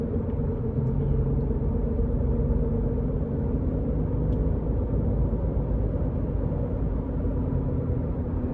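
A 2019 Subaru Crosstrek Limited with nearly 74,000 miles cruising on the road, its steady low engine and tyre rumble filling the cabin continuously without a break.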